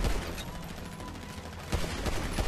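Rapid bursts of gunfire crackle through a GTA Online firefight, dense overlapping shots in quick volleys at loud, close range, with a heavier cluster of rounds near the end.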